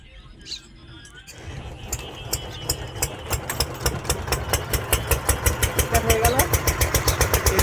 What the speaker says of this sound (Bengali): এখানে একটা বড় মেশিন আছে মেশিনটা স্টার্ট করবে